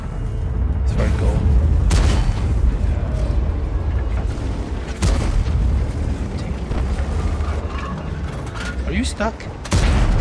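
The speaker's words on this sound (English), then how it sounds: "Oh, artillery. That's a big gun, artillery." Heavy artillery rounds in World of Tanks boom out in several sharp, loud blasts spread across the stretch, over a constant engine rumble and clanking mechanisms, with someone talking in between.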